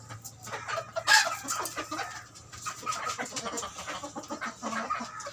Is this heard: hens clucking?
yes